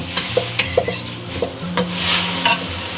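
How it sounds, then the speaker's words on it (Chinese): Diced chicken breast and chili stir-fried in a wok with tomatoes, a steady sizzle under a run of sharp, regular scraping strokes of a spatula, close and loud with no talk. "然后我们再下入鸡胸肉丁儿，还有我最喜欢的辣椒，给它炒一炒"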